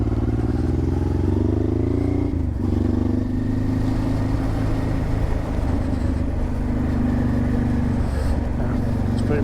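A motorcycle on Mitas E-09 rear and E-10 front dual-purpose tires rides along at the end of a trip, its engine droning and the wind rumbling loudly and steadily throughout.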